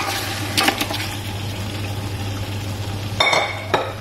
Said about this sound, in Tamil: இப்போ இதில் வந்து நம்ம வேக வச்சிருக்க மட்டனை ஆட் பண்ணிக்கலாம்.